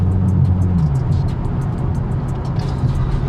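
Ford Mustang fitted with an Airaid cold air intake, its engine heard as a steady, loud low rumble from inside the car while driving, with no speech.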